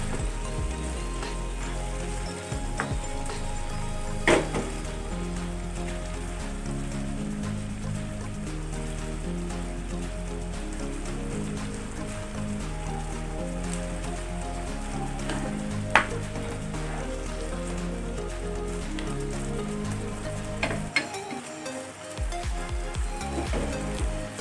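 Chicken sizzling in a pan as a little water is added, a steady close frying hiss and crackle with occasional stirring scrapes, continuing alone without talk.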